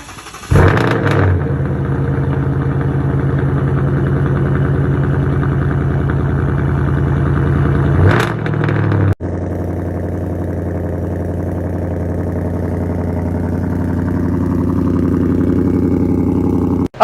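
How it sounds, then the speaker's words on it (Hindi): A 2024 Ford Mustang GT's engine fires up with a sharp bark, then settles into a deep, steady idle; a second start-up flares near the middle, followed by a continuous low, rumbling exhaust note, close and loud. "तो अब हम इस गाड़ी के अंदर जाने से पहले इसका एग्जॉस्ट नोट सुन लेते हैं, आवाज़ सुन लेते हैं।"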